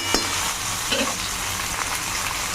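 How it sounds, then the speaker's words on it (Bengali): Pieces of mango fry in hot oil and are stirred for a sweet mango pickle, giving a loud, dense, continuous sizzle with light scraping from the spoon. No voices are heard. "তেলের মধ্যে আমটাকে ভালো করে নাড়া হয়ে গেছে"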